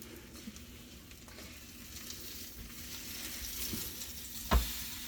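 French toast sizzles in a pan after being flipped, a steady crackling fry at moderate level that builds slightly, ending with a single sharp knock of a utensil against the pan.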